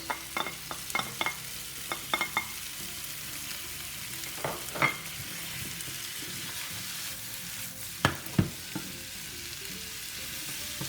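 Girolle (chanterelle) mushrooms sautéing in a pan with salt and pepper, a constant close sizzle broken by sharp scrapes and clacks of a utensil stirring them, with louder knocks toward the end and no voices.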